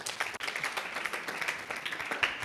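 Audience applause welcoming Elvine at a Helvine Foundation gathering and birthday celebration: a dense, steady wash of many hands clapping together for the full stretch, with no voices over it.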